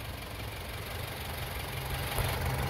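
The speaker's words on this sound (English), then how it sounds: "All right, so this is with our turbo running." A Toyota Highlander 2.4-litre four-cylinder turbo engine runs steadily at idle with a low, even hum, heard close up and fairly quiet throughout.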